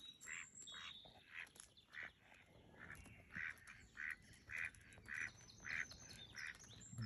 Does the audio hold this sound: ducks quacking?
yes